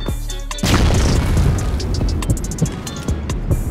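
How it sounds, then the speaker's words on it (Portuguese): A grenade goes off in the shooter game CrossFire with a sudden, loud, deep boom that rumbles on for a few seconds, followed by scattered sharp pops of gunfire, with no speech. "Segure essa granada!"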